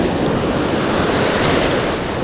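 Surf breaking steadily on an open fishing beach, a continuous loud wash of waves with wind noise over the microphone and no pauses.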